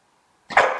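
A nine-month-old American Staffordshire Terrier gives a single short, loud bark on command, sudden after near silence.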